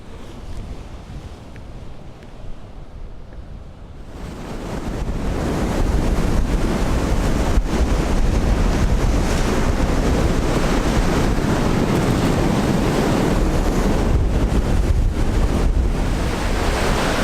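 Waves surge and break along a coastline while strong wind buffets the microphone. A quieter, hissing wash for the first four seconds swells into a loud, continuous roar of surf and wind gusts, with no voices.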